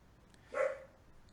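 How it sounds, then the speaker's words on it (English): A single short bark from a pet dog comes from somewhere in the room, moderately loud over a faint background hiss. "And now that's my dog."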